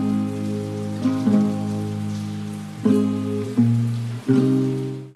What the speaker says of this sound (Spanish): Se encuentran esos sonidos de fondo como de lluvia